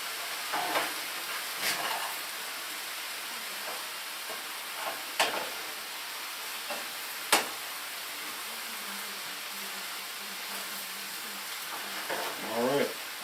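Roasted garlic sizzling and frying in a pan, cooked with an Italian mixed-herb seasoning and garlic powder: a steady close crackling hiss runs throughout, broken by a few sharp clinks of a utensil stirring against the pan.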